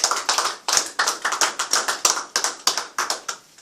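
A church congregation claps together in a series of sharp, rhythmic bursts, a dense close-up applause of many hands with brief gaps between rounds and no talking.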